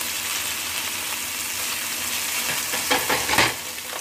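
Beef sizzles and fries in a pan over high heat, a steady broadband crackle with a few louder stirring or flipping bursts near the end.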